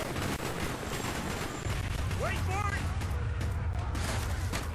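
Gunfire in the Call of Duty Black Ops video game crackles continuously in dense, rapid bursts over a steady battle din, with a voice talking over it.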